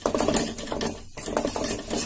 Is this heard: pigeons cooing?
no